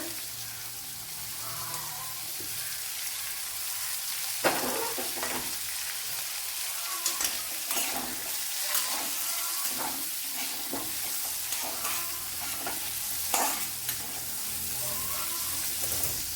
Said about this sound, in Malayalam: ഇനി ഇതിനെ ഒന്ന് മൂപ്പിച്ചെടുക്കണം